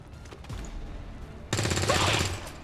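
Rapid gunfire bursts in the tactical strategy game XCOM 2: War of the Chosen, a dense loud volley erupting after quieter background rumble, fairly close and sustained for about a second.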